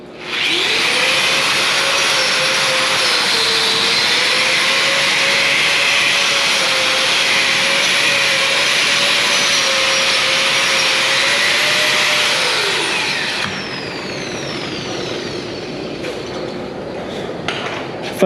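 Welding in a workshop produces a loud, steady industrial hiss with a sustained tone that holds for about thirteen seconds, then cuts to a quieter, ragged background hum.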